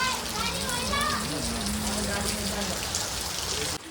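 Steady rain pours down as a dense, even hiss throughout, with a person speaking over the downpour.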